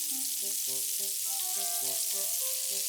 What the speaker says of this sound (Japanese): ちくわを焼きます